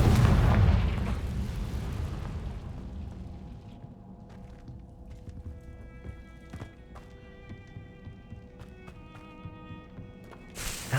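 Confringo explosion spell in Hogwarts Legacy: a loud booming blast that fades into a long rumbling tail, followed by faint game effects with scattered clicks and tones.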